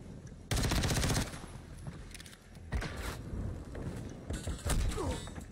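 Rapid bursts of gunfire in a video game, pistol shots among them, arriving as sharp crackling volleys with short quiet gaps between, fairly loud and close.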